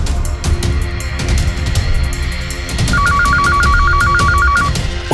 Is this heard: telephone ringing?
yes